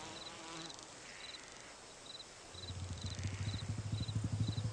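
A housefly buzzes in flight through a garden, a thin continuous drone with faint high chirps over it, then growing louder and rougher toward the end as if passing close.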